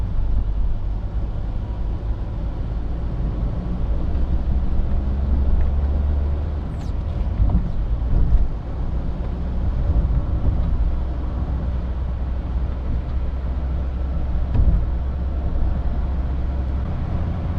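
A car driving through city traffic in low gears, a steady low engine drone and road rumble heard from inside, with a few passing swells and no talk.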